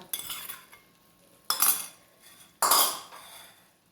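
A spoon stirs through a dish just coated with ghee, cashews and raisins, making three separate bursts of scraping and clinking against the pan with quiet gaps between them.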